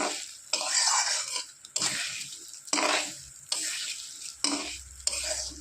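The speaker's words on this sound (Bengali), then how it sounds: "একসাথে সমস্ত মশলা দিয়ে আমি কি করব, ভালো করে নেড়ে নেব।" Spices with coriander powder stirred in a pan for khichuri, with a close, loud sizzle swelling in repeated bursts as a utensil sweeps and scrapes through, about five strokes, and no talking.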